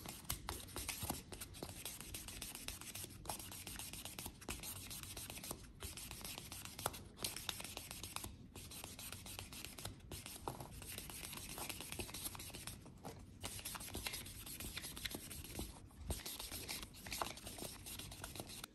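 Fingernails being buffed to a shine with a white buffer, a steady close dry rubbing and scratching that runs continuously in repeated strokes with brief pauses, no talking.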